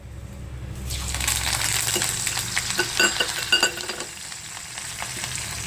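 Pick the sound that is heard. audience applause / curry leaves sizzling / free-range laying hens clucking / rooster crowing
curry leaves sizzling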